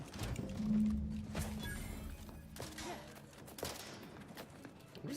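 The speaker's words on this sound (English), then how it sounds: "What is he shooting at?" Gunfire in the sci-fi shooter game Outer Worlds 2, a ragged burst of shots and thuds crowding the start and recurring in scattered hits, mixed with game music and faint voices underneath.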